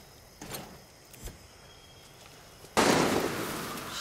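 Gunfire in the shooter game Far Cry 6: a couple of faint, distant pops, then a sudden loud burst of dense, rattling noise that carries on without pause to the end.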